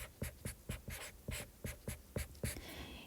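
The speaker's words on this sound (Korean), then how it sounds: "윤리를 한자어로 선생님이 한번 써볼게요" Chalk or marker writing Chinese characters on a classroom board, a series of about ten short, sharp tapping strokes in an uneven rhythm, close and fairly quiet, with no voices.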